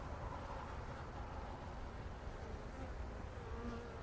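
Honey bees bringing nectar into the hive make a dense, steady buzzing drone, faint but continuous and even throughout with no voices.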